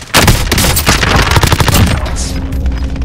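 Gunfire in a battle-royale shooter game, a loud close barrage of rapid cracks and booms that fills the whole stretch and eases toward the end, with no talking.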